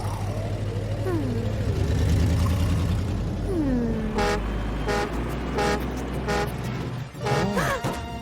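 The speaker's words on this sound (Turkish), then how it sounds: "Araba kullanırken uyuduğunuzda sizi uyandıracak bir korna." A cartoon vehicle horn honks in a rapid series of short toots over engine and road noise, after some cartoonish sliding sound effects.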